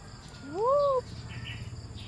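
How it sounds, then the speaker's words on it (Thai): A single bird gives a short rising-falling call, clear and nearby, followed by faint distant chirps over low ambient hum. "เสียงนก"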